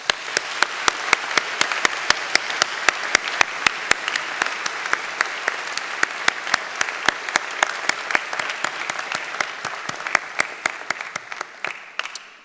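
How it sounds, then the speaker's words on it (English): Applause at a spring university convocation ceremony: a steady round of clapping from a large seated audience, lasting about twelve seconds with dense sharp claps throughout before tapering off at the end. "Please join me now in acknowledging him with a round of applause."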